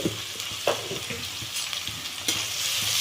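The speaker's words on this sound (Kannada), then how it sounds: "ಫಸ್ಟ್ ಈರುಳ್ಳಿ ಫ್ರೈ ಆಗಲಿ ಅದ್ರ ಜೊತೆನೇ ಸ್ವಲ್ಪ ಕರಿಬೇವು ಹಾಕೊಳ್ತಾ ಇದ್ದೀನಿ" Onions and curry leaves fry in a pan for an egg gojju, a steady crackling sizzle broken by sharp scrapes and clicks of stirring.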